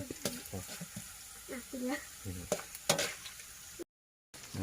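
Banana slices frying in a large wok: crackling sizzle with stirring and scraping, a voice talking over it, and a brief moment of silence near the end.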